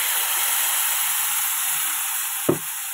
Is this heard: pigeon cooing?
no